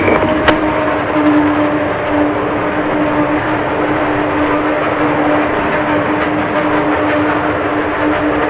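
Avro Vulcan XL426 jet bomber engines roar steadily during a taxi run, a loud continuous broadband rumble with a sustained tonal whine and no talk.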